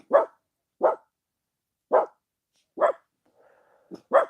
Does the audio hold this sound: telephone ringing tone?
no